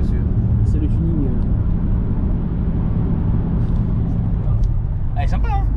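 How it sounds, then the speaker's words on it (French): A tuned Ford Escort drives past, a steady loud engine and road roar filling the whole stretch, with voices talking over it. "je crois que c'est une Ford Escort"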